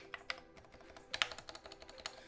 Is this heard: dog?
no